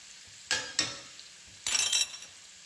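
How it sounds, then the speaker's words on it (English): Peppers, onions and garlic sautéing in a pan, heard as a quiet background sizzle broken by three short bursts of stirring and scraping, two close together early and one longer scrape later. "I'm just gonna keep sauteing these down"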